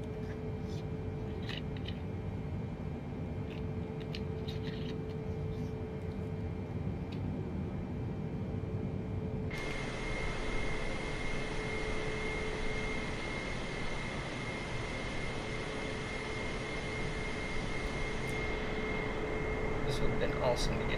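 A Boeing 747 shuttle carrier aircraft taxis in Microsoft Flight Simulator, giving a steady, low jet-engine hum and whine that grows fuller and brighter partway through, a continuous mid-level drone with faint clicks.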